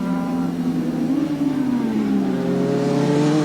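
Racing superbikes in a 1983 NGK Superbikes heat, including a Kawasaki and Honda V4 machines, pass close by as a loud, continuous engine roar with rising and falling revs and no talk.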